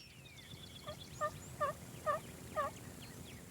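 Wild turkey gobbling outdoors: four short rattling gobbles in quick succession, moderately distant, over a soft steady background hiss.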